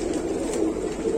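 Pigeons of mixed Madrasi, Punjabi and Allahabadi breeds at a market sale give a steady, low murmuring coo throughout, a continuous close chorus with no speech.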